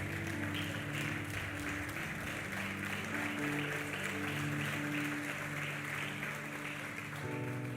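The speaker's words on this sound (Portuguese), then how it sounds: "Pode se assentar aplaudindo ao Senhor, assentar-se aplaudindo ao Senhor" A church congregation applauding while seated, a steady wash of clapping from many hands running throughout with a low sustained musical hum underneath.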